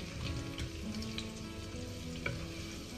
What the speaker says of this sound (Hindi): बस अभी मैं क्या करूँगी, इसको ऑयल में फ्राई करूँगी अच्छे से